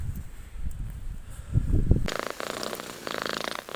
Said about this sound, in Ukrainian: десь бігала маленька кошеня